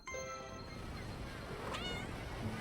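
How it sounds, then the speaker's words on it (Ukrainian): A cat meows once in the World of Tanks video game, a short, bright, rising-and-falling cry that stands out over quiet background game sound, with no talk. "І це котик!"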